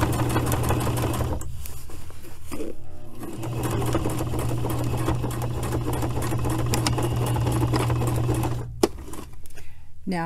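A lightweight sewing machine hums and rattles in a steady run while patching a jacket pocket, pausing briefly twice, with a voice talking over it.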